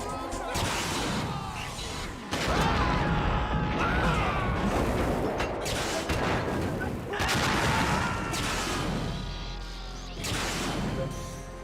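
Gunfire and an explosion in the video game Metal Gear Solid 2 make a loud, dense barrage of blasts, crashes and rumbling debris that runs in waves for about twelve seconds, with mechanical clatter mixed in.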